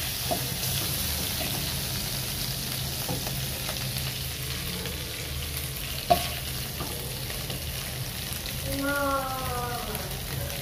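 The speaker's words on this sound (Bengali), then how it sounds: "চিংড়ি মাছ, চিংড়ি মাছগুলো একটু ভেজে নিলাম" Prawns fry in a pan with a soft, steady sizzle under a faint background hum, one sharp clink near the middle, and a brief voice toward the end.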